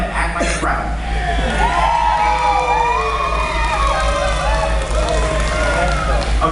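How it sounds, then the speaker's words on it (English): An audience at Disney's Hollywood Studios plays a crowd on cue, giving a loud, continuous mix of overlapping chatter, shouts and cheering that fills the whole stretch, with a steady low rumble beneath. "Let me see you act like a crowd. Go ahead. Act like a crowd."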